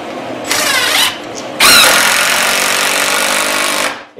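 A power drill driving fasteners into composite stops and a CNC router spoiler board, in one short burst and then a longer steady high whine that winds down, close and loud.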